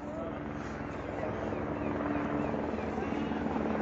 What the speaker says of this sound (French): il y a un hélico aussi là-haut